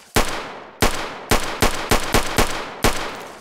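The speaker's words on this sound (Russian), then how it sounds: "И без глушителя он стреляет." Unsilenced video game gunfire: eight sharp, loud shots in an uneven rhythm, each with a brief decaying tail, no voices.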